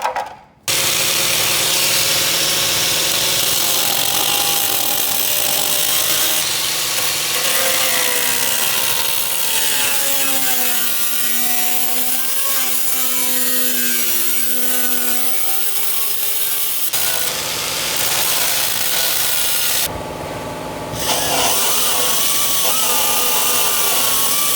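Power tool cutting out rusted metal on a white Chevy truck during rust repair, a loud continuous whining grind with wavering pitch, close up, lasting the whole stretch with brief changes in tone.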